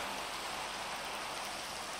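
Steady rain hisses as a dense, even wash of falling water in the video game Minecraft, moderately quiet and unbroken, with no voices over it.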